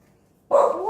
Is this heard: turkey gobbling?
no